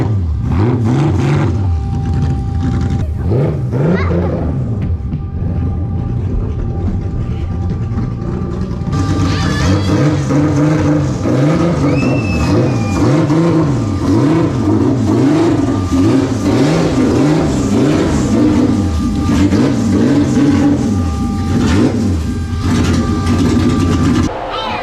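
A car engine revs repeatedly up and down in low, rolling surges as the car drives onto a race trailer, with occasional metallic creaks, loud and close throughout.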